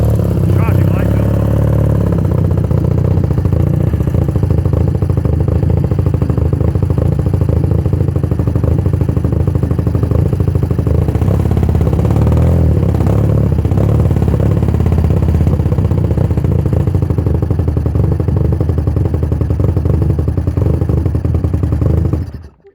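A 1982 BMW R65 motorcycle engine runs on fuel left in the carburettors with the tank removed, a loud, close, continuous clattering idle that splutters at times before cutting out at the end.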